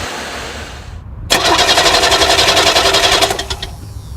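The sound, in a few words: starter motor cranking a truck engine until it fires up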